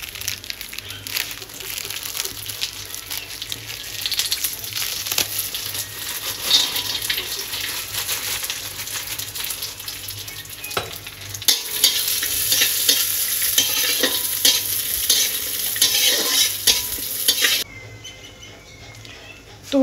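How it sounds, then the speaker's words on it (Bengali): Cashews and raisins fry in a pan with a continuous close sizzle and repeated stirring scrapes, growing louder partway through and then dropping off abruptly near the end. "কাজু আর কিশমিশটাকে একটু ভেজে নেব"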